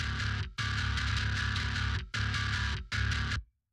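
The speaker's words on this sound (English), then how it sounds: "It's like heavy bass distortion" A heavily distorted bass guitar plays four thick, buzzing sustained notes separated by short gaps, then stops abruptly.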